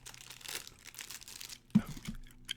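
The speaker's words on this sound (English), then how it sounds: "I just ripped it. Nice crinkling sound." Video game packaging being ripped open and crinkled, with soft crackling plastic rustles through the first half and a sharper burst of crinkling around the middle, then a few scattered crinkles, close and quiet.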